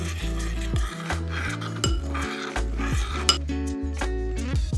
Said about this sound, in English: And now just mix everything together.